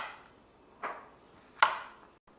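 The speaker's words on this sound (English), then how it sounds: "from there we're going to take the squash and we're just going to cube them up" A knife cubes butternut squash into bite-sized pieces for soup, two sharp, separate chops against a cutting board in a quiet kitchen.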